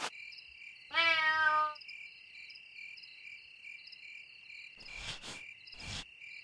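A single cat meow, a short falling cry at close range, rises over a steady night chorus of chirring crickets, with a few brief rustling noises afterward.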